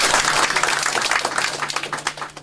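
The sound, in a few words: audience applause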